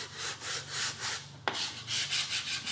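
Fingertips rubbing over dry car paint coated in overspray on an F80 M3, a close, quiet, rasping scrub in repeated back-and-forth strokes with one sharp tick midway.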